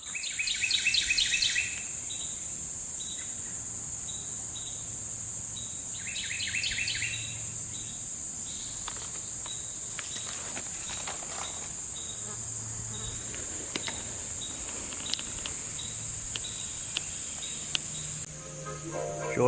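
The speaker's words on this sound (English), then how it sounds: "Listen to that bird and bugs." Insects chirp steadily with a shrill buzzing drone while a bird sings in short, bright bursts along a shaded paved path at the George Washington Carver National Monument, outdoors and fairly close.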